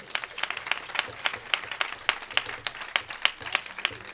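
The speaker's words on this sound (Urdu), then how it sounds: "کھل کے تالیاں بجاؤ خدا مند لئی" A church congregation claps for God during a sermon, rhythmic repeated hand claps at a steady beat, moderately loud and slightly distant with no talking over them.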